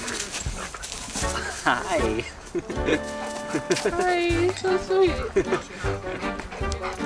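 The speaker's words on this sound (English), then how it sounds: "Oh, that's my dog." A dog whimpers and makes short excited vocal sounds close by, mixed with people chatting and talking over it throughout.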